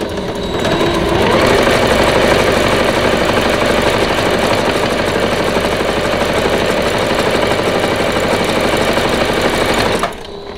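Sewing machine stitching a hanging towel, a loud, steady mechanical hum and rapid needle rattle running for about nine seconds before it stops.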